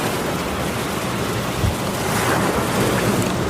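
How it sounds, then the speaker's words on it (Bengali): A big wave strikes a boat near the shore in an audio drama effect, a dense roar of surging water and wind with a heavier low thump partway through, loud and continuous. "বিশাল এক ঢেউ"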